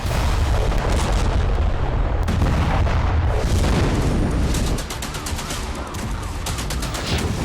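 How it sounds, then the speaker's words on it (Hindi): Continuous heavy explosions and booming blasts crackle loudly without letup, a dense barrage of rumbling detonations. "ट्रंप के वेलकम में हुई यूक्रेन की बारूदी आतिशबाजी देख लीजिए"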